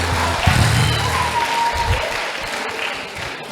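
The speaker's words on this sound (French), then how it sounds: "Acclamez fort pour elle." An audience at a church service breaks into loud applause that fades gradually to scattered claps, with a low voice murmuring underneath.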